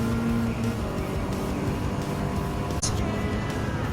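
Honda Civic Type R engine in Gran Turismo 7, held steady under throttle as a dense, continuous drone with a brief click near the end; faint commentary sits beneath.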